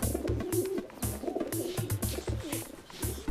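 A pigeon in a cartoon coos repeatedly in a steady rhythmic pattern of soft, low warbling calls, close and fairly quiet, with no voices over it.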